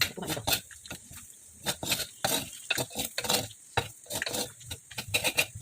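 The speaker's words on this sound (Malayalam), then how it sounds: "ഞാനത് കൈയെടുക്കാതെ തന്നെ ഒന്ന് ഇളക്കി കൊടുത്തു" Banana chips being stirred as they fry in coconut oil in a pan, with repeated scraping strokes at an uneven rhythm over a steady sizzle, close and fairly loud, with no voices.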